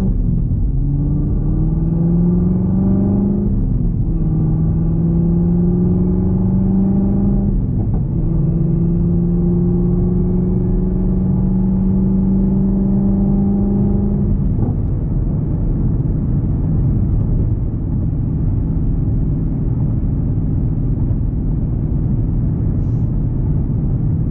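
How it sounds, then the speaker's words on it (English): A Nissan Z car engine lugs in fourth gear at about 10–12 mph through a neighborhood, a steady low droning rumble with harmonic tones that rise slightly and shift a few times before settling into a constant hum. "fourth gear just bogs the snot out of this"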